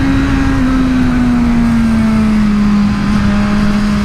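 A Suzuki Katana motorcycle pulls away with a steady, loud engine drone that holds a sustained tone and gradually eases in pitch, heard close and continuous without talk.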